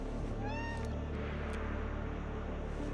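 A cat meows in a video game, a single rising-and-falling cry over a steady loud game soundtrack and ambient hum, with no talk.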